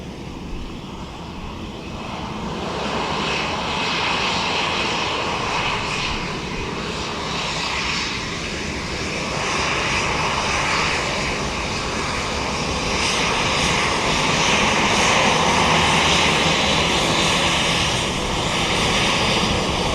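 Ryanair airliner at Dublin Airport, a loud continuous engine roar rumbling steadily through the whole stretch, swelling slightly midway as the jet moves, with no talk over it.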